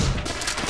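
A single loud blast from an M1897 trench gun, a pump-action shotgun in Call of Duty: World at War, during a team deathmatch on the Upheaval map. It is a short, harsh burst of noise that dies away within a second.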